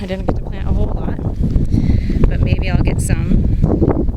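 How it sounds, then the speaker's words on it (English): Wind buffets the microphone with low rumbling gusts beneath a person talking throughout. "Excuse the wind, it's pretty windy today."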